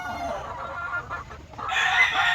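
Hens clucking close by in a breeding pen, a steady run of short clucks with a louder, higher burst of clucking toward the end.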